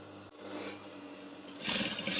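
A sewing machine stitches a cone sleeve from the back, running steadily over pinned fabric with a continuous close whir that grows louder and brighter toward the end, no voices present.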